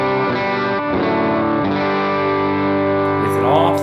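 An electric guitar runs through a compressor pedal switched on, ringing out evened-out, sustained chords with a smooth, slightly driven tone and a few shifting strums, played alone.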